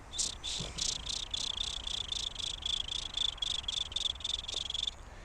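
A human voice imitates crickets: fast chirps pulse in a steady, regular rhythm for about five seconds, high-pitched and fairly quiet against a soft background hiss.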